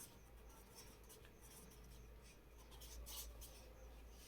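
A pen or pencil writes on paper in a faint, soft scratching that runs on steadily over a low background hum. No voice is heard.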